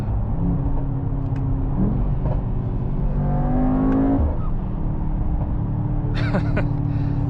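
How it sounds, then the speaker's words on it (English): The Mercedes-AMG GT 63 S E Performance drives at moderate loudness with an engine drone and a rising acceleration tone, then a brief hissy turbo blow-off puff near the end. "And the blow off from the turbos, I really love this."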